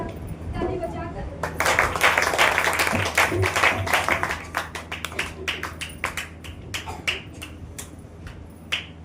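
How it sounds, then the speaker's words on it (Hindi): Congregation at a church worship meeting clapping hands: at first a dense burst of applause with voices, then it settles into steady rhythmic claps that continue and thin out, with talk heard alongside. "ताली बजाकर"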